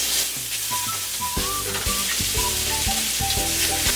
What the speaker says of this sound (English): I have the wok on medium-high heat, and we're gonna drop in the lamb one by one